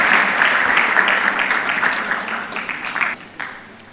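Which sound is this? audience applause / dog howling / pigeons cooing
audience applause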